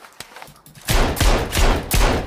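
Several loud gunshots crack in quick succession, close and sharp, following a couple of fainter pops at the start.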